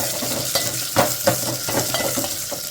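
Tempering for pappucharu fries in a pan with a steady, bright sizzle, broken by several sharp scraping strokes as the spatula stirs the spices through the hot oil.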